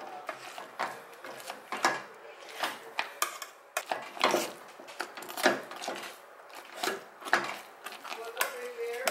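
Potatoes are mashed in a pot for homemade knish, with a quiet run of irregular scraping and knocking from the masher against the pot.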